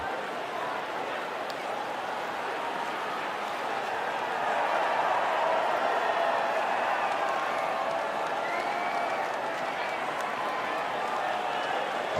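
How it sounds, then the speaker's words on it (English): Crowd cheering and applauding at the podium after a race in F1 24, a steady broadband roar of distant fans that swells slightly midway and holds throughout. "the reaction from the crowd must be incredibly uplifting for them"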